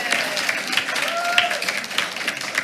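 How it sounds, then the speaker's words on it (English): A school board meeting audience claps for a Student of the Month, a lively rattle of many hands with scattered cheers and voices mixed in throughout. "Let's give him a big round of applause."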